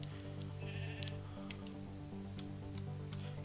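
A sheep bleats in the Minecraft video game, a soft, muffled call heard under a steady buzzing drone with faint clicks scattered throughout.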